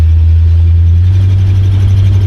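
A 1968 Cadillac DeVille convertible's engine runs at a steady, loud idle, a deep, even rumble close by with no voices.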